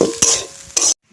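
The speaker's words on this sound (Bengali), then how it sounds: "ভাজা ভাজা করে নিচ্ছি।" Boiled, salted potato mash is fried and stirred in a pan, giving two quick scraping strokes of a spatula over a soft sizzle before the sound cuts off.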